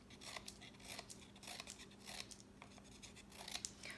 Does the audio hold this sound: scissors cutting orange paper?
yes